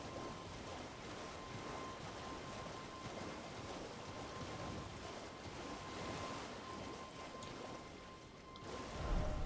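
A waterfall in the Elden Ring video game gives a steady, broad rush of falling water, continuous and even throughout, with no talk over it.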